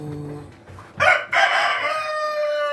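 A Rhode Island Red breeder rooster in a breeding pen crows once, loud and close, its drawn-out cock-a-doodle-doo following quieter clucking from the hens.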